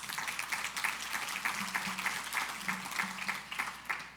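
A small crowd at a leadership breakfast claps steadily for a few seconds, a dense patter of applause with a faint low voice underneath.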